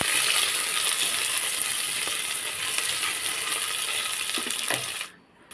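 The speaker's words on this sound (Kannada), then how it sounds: "ಫ್ರೈ ಮಾಡ್ಕೊತಾ ಇದ್ದೀನಿ ಆಲ್ರೆಡಿ." Onions deep frying in a pan for tomato bath, a constant close sizzling hiss with occasional light taps of a utensil, cutting off abruptly at the end.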